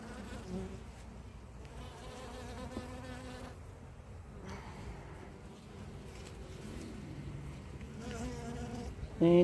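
A dense, continuous drone of honeybees buzzing close by in an open hive during an autumn inspection, many wings humming together with a few louder buzzes passing near.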